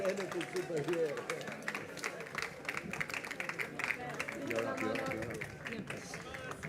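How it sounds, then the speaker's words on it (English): Audience applause at an award ceremony, a sustained patter of many hands clapping, moderately quiet and steady, with some chatter and voices mixed through it. "A big applause again."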